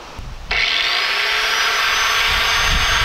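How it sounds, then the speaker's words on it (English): A power grinder cuts off the end of a metal roof panel, a loud continuous high-pitched shriek that starts abruptly after a brief lower whir and holds steady, very close. "Spencer's gonna go ahead and grind that off right now"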